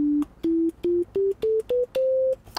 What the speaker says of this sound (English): So I'm going to just play a note, and you can hear that note come through.